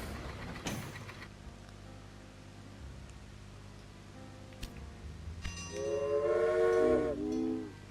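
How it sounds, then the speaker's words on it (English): Train running in the video game Railway Empire, a soft rolling rumble with a brief clank early on, building to a louder passage where a bright horn-like whistle sounds in the final seconds. "Got a train running from there to there."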